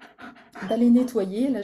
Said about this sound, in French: j'ai mon chien, si tu entends un énorme souffle, c'est mon chien